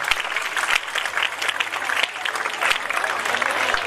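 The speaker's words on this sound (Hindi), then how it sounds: "जोरदार तालियों के साथ स्वागत सम्मान" Sustained, lively applause fills a ceremony honouring parents at an Independence Day celebration, clapping evenly from a nearby crowd for the whole stretch.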